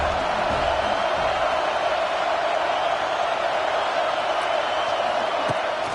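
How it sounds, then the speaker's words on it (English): Stadium crowd at a college football game, Texas visiting USC, roaring in a steady, dense wall of cheering that holds loud and unbroken throughout with no clear voices standing out. "This crowd bringing an ear-splitting welcome to their visitors."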